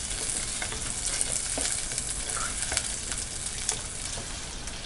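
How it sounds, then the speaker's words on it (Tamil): Shallots, green chilli and garlic sautéing in a pan for sambar, a steady dense sizzle and crackle of frying with faint stirring scrapes, close and continuous. "சின்ன வெங்காயம், பச்சை மிளகாய், இது கூட பூண்டு, இது நல்லா சிம்மில் வச்சுட்டு நல்லா வதக்கிக்கலாம்."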